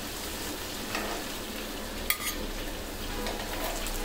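Food frying in a pan makes a steady, dense sizzle from start to finish, close and moderately loud, broken by one brief sharp clink from a utensil midway.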